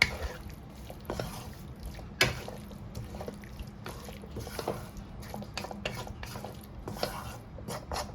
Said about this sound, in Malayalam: ഇനി ഇതൊക്കെ ഇട്ടിട്ട് ഒന്ന് ജസ്റ്റ് ഒന്ന് മിക്സ് ചെയ്തെടുക്കാം